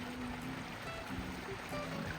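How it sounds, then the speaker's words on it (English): A backyard pool waterfall feature pours and splashes continuously, a soft steady wash of falling water heard at moderate distance with no voices over it. "Waterfall. All these water features sound really nice."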